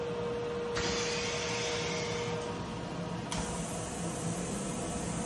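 A press ironer machine pressing a T-shirt in a laundry, giving a steady loud hiss and hum like steam and a motor, with a sharp burst of venting partway through and again near the end.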